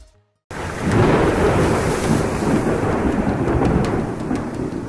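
Heavy thunderstorm with strong wind, a dense steady roar of rain and gusts joined by rolling thunder, loud and continuous after a brief silent start.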